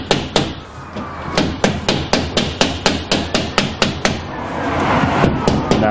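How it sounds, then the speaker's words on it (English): A hammer taps tight glazing beads into place on a door of a garden cabin, a close, steady run of about fifteen sharp even knocks in quick rhythm. "we're just using a hammer to gently force it home."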